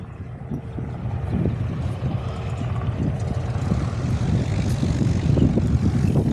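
Light propeller airplane at an airfield taxiing back to its parking bay on a windy day, a loud, steady low engine rumble with gusty wind noise and no talking.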